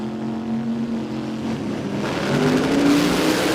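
An Australian sports compact drag racing car accelerates hard down the strip at the Brisbane Jamboree, its engine note rising steadily and swelling louder toward the end, with a second engine droning alongside.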